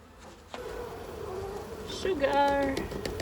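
Honey bees buzzing in a mass at a hive during a sugar-shake varroa mite check, a close droning hum rising to a louder, pitched buzz near the end, with no talk over it.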